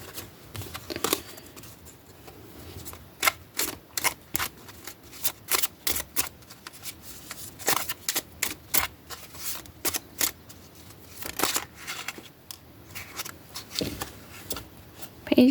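Tarot cards being shuffled by hand, a run of sharp riffling bursts and soft slaps coming in uneven clusters, close and fairly quiet with no talking.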